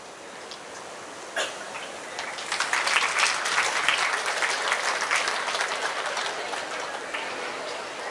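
Audience applause at a happiness and wellness workshop, starting with a few claps and swelling into steady clapping from a group of listeners, close and continuous for several seconds.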